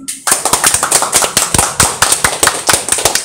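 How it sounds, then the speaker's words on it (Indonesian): Sharp, loud claps from an audience at an Islamic sermon, the strokes falling in a steady, near-regular rhythm close by, with no talk over them. "Tepuk tangan."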